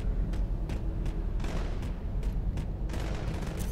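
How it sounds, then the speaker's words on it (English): Gunfire in the video game Halo 2 Anniversary during a Team Swat match, a series of sharp shots cracking at irregular intervals, some in quick pairs, over a dense low game rumble. "but then I heard shots from this side"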